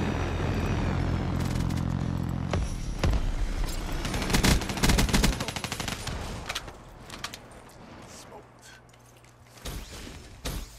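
Gunfire in the video game Black Ops 3, with dense bursts of automatic fire and explosive blasts that are loud at first, then thin out into scattered shots.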